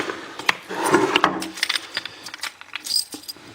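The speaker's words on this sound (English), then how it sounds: "Get the keys out." A bunch of keys jangles and clinks as it is pulled out beside a lock, producing a run of sharp metallic rattles and taps up close, with no talking.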